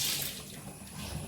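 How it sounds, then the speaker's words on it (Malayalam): Water sloshing and splashing as rice is washed by hand in a pot, a short burst of swirling and trickling close by. "ഇനി അടുത്തത് അരി കഴുകാനുണ്ട്."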